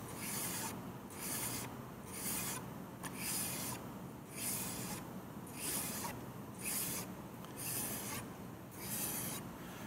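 A metal file is drawn along a metal edge in steady, repeated rasping strokes, about two per second. The even, gritty scraping runs throughout at a close, moderate level with no talk.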